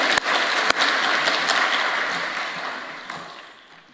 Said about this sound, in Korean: 아주 무사히 암송을 해서 모든 하나님께 영광의 박수